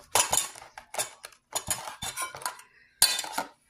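A metal spoon stirring mayonnaise into chicken salad in a bowl, bursts of close clinking and scraping in several separate strokes with short pauses between.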